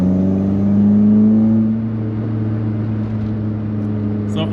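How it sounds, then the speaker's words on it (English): A Volkswagen Golf Mk1 idles with a deep, rumbling exhaust note that rises briefly then settles back to a steady low burble, close by. "Lovely exhaust on it. Can you hear that exhaust note?"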